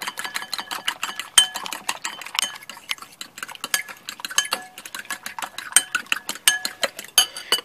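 Eggs and yam being beaten in a bowl with a utensil, a quick steady run of sharp clinks and scrapes against the bowl's side, close and continuous with no talking.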